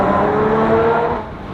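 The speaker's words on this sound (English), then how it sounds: "we'll roll the window down and see if we can't get some exhaust real quick" A supercharged Audi S5 B8.5 with a single pulley upgrade and 6-speed manual pulls in second gear beneath an underpass, its loud, close exhaust roaring and echoing before easing off slightly at the end.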